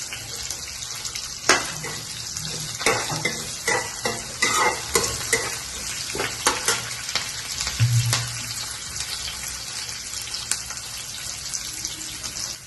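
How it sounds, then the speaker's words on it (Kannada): Curry leaves and spices fry in a pan for kara pongal, a soft continuous sizzle broken by scraping stirs and clinks of a spoon, close by with no talking. "ಕರಿಬೇವು ಇದೆಲ್ಲ ಚೆನ್ನಾಗಿ ಫ್ರೈ ಮಾಡಬೇಕು."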